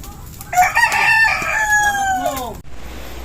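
A rooster crows once, loud and close, its long drawn-out call ending abruptly, at a backyard birthday gathering held during a storm.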